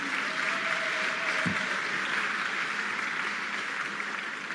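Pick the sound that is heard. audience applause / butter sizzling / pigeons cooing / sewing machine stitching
audience applause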